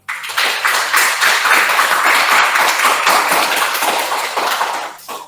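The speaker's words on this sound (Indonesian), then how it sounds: "Tepuk tangan dulu." A classroom of students gives a burst of hand applause lasting about five seconds. The clapping is dense, loud and close, and it tapers off at the end.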